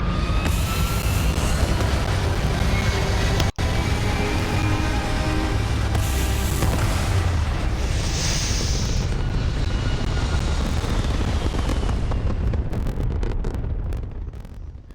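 A spaceship lifting off in the video game Starfield, a loud sustained roaring thrust with rumbling low end and hissing wash, fading out near the end.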